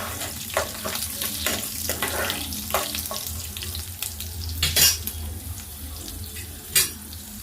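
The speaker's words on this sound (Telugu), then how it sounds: "కొంచెం జీలకర్ర, అలాగే కొంచెం పచ్చెనపప్పు అండి. ఇవి కొంచెం వేగాలి." Cumin seeds and chana dal fry in hot oil in a home kitchen pan, a low continuous sizzle with occasional sharp clinks and scrapes of a utensil against the pan, and a couple of brief louder bursts.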